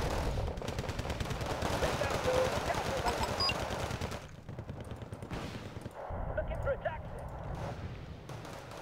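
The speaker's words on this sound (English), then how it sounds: "Fall back, we cannot handle all this bullets" Rapid sustained gunfire and bullet impacts in Wargame Red Dragon, a dense crackling barrage that thins midway and then resumes, with voices talking over it.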